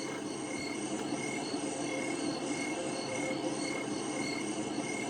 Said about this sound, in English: The crickets are taking over.